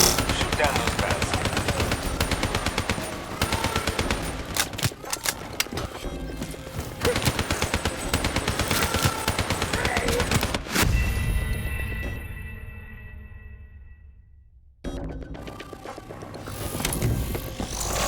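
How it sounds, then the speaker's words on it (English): Rapid automatic gunfire in Call of Duty: Black Ops 3, shooting down bats in the New World zombies map, loud dense bursts that stop abruptly, leaving ringing and game ambience before sound resumes. "shoot down those bats."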